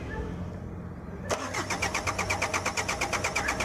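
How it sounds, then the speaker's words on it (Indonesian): A Mitsubishi Canter truck diesel engine, hard to start after running out of fuel, with air being bled from the injection pump: quiet low rumble, then a sudden start of rhythmic starter cranking pulses, close and fairly loud. "Sambil dipompa sambil di starter lama-lama akan hidup."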